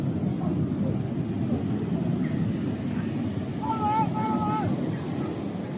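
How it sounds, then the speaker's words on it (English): Large ocean waves roll onto the Mauritanian coast near Nouakchott, a steady broadband roar of surf and wind buffeting the microphone, with a few faint higher tones drifting over the wash. "Huge waves."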